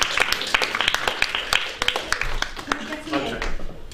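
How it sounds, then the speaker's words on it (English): Scattered audience clapping rises into a round of applause in a room, with people talking over it. "So a round of applause, come to the front,"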